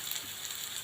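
Steady, quiet frying hiss of black cumin leaves in a pan, a continuous soft crackle like light rain with no talking.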